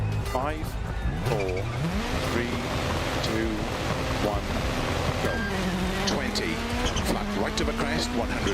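Rally car driving a practice stage, its engine revving up and shifting through the gears over and over with tire squeal, loud and close, and a voice speaking over the engine.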